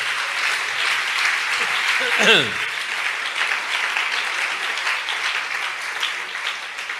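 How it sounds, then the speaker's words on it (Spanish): Church congregation applauding steadily for the Lord during a service, a dense, sustained wash of clapping that holds at an even level for the full length. "Dele un aplauso al Señor en esta hora."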